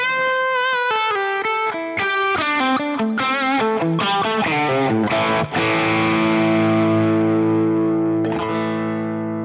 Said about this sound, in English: let's play a phrase using a tiny amount of overdrive